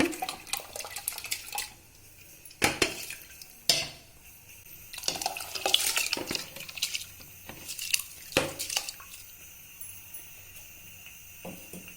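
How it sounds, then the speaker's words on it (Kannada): Split moong lentils go into hot water in a cooking pot, heard as intermittent clinks and knocks of utensils against metal with soft splashes and stirring between quieter pauses, no speech. "ಈಗ ಬೇಳೆ ಸೇರಿಸ್ಕೊಳ್ಳೋಣ"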